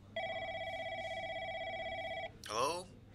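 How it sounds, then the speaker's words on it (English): A telephone bell rings once in a steady, continuous trill, fairly close and clear over a quiet room, then stops and a voice answers. "The phone rang again."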